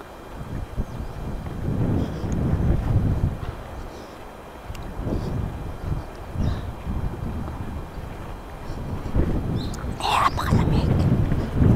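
Gusty wind in Japan buffets the microphone in rough, low rumbling surges, rising and falling throughout with a brief brighter swell near the end.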